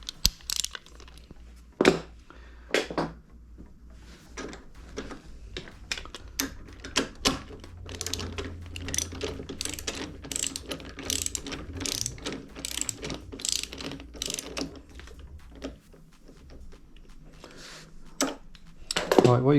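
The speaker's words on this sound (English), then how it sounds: "Now these have got to be done up to 40 newton meters, so you're going to need a torque wrench." Torque wrench tightening bolts on a Kawasaki Ninja 650 motorcycle, heard as a run of sharp, repeated ratcheting clicks at close range, with faint talk in places.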